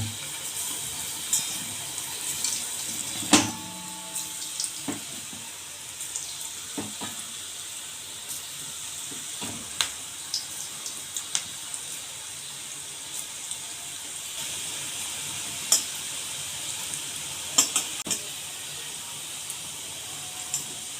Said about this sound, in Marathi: इथे आपले मंचुरियन टाकून झालेले आहेत तेलात। हे मस्त असे फ्राय होऊ देऊयात।